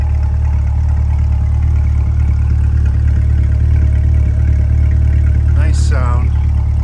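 A 2020 Chevrolet Corvette Coupe Z51 3LT sits idling with a steady, deep, even engine drone throughout, and a brief voice cuts in near the end.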